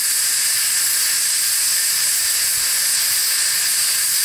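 A steam boiler hisses steadily and loudly during a steam engine's first run, a continuous broad rush of escaping steam with no pauses and no voices.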